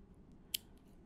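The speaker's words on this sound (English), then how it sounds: "And then I'm going to trim off the excess tails here." Scissors make one quick, crisp snip close by while trimming the excess tails of twine on a clothespin holiday ornament, set against quiet background.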